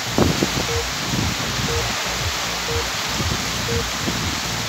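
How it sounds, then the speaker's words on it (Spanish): Heavy rain and gusting wind from Hurricane Iota form a steady, dense wash of noise that runs without a break from start to finish, with low rumbling underneath. "está perrísima la lluvia"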